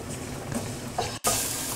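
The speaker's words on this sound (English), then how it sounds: "Our mixture's sizzling nicely" A curry leaf mixture sizzles steadily in a pan, a soft continuous frying hiss with light stirring scrapes and a brief cut partway through.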